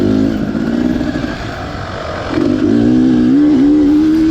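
A Beta Xtrainer 300 two-stroke dirt bike engine ridden on a wooded practice loop, a steady loud drone that dips briefly, then climbs in pitch as the rider gets on the throttle, with no talking.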